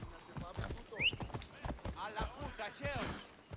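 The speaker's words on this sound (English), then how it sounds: "stupid bloody horse." Horse hooves clip-clop in Assassin's Creed Odyssey, a rhythmic clatter under someone talking, with a brief whinny-like chirp partway through.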